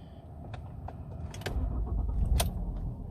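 A car turns over and starts, its engine rising to a steady idle under small clicks and jingling from the cabin, recorded close from inside the vehicle.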